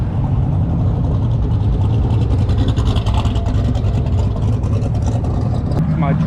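A Chevrolet Camaro drag car with a split bumper and parachute chute rumbles loudly and steadily at close range at a drag-and-drive event in Cincinnati, Ohio, its deep engine drone continuous throughout.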